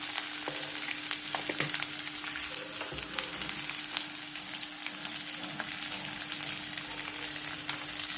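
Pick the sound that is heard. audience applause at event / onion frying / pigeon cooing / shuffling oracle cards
onion frying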